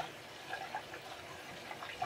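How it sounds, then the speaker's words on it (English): Ilford HP5 film developer (Kodak HC-110) is poured slowly into a LabBox developing tank, making a faint, close trickle with small gurgles and splashes. "So we pour in and turn. I tend to turn it as I'm pouring."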